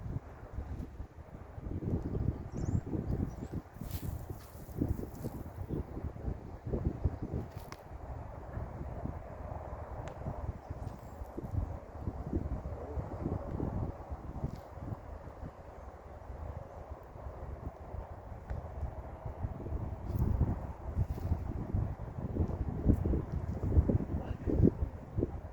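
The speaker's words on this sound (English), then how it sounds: "That wind is no fun." Steady wind buffets the microphone on an open disc golf course, a continuous low rumble with gusts that swell louder toward the end, no voices heard.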